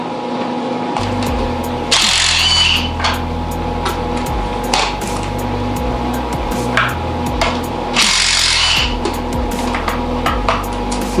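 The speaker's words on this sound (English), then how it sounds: "Gotta love the brushless impact." Up close, a brushless impact driver works loose motorcycle parts during removal of the wiring harness, air box and carb, firing two short, loud rattling bursts a few seconds apart amid clinks and knocks of handled metal.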